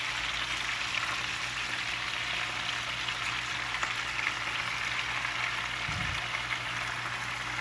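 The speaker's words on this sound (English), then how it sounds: "Let's give it another stir here." Lemon, garlic and rosemary chicken sizzling in a mixed sauce as it is stirred in the pan, a steady close hiss of frying with faint scraping and a brief low bump near the end.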